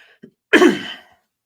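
A single harsh cough, close and abrupt, preceded by a faint breath and fading quickly into silence.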